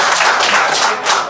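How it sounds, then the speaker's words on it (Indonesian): A crowd at a netizen gathering claps on cue during a question-and-answer session, a short, loud, close burst of mixed clapping. "Tepuk tangan dulu dong."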